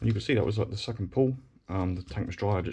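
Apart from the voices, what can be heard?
None of the usual background noises is heard.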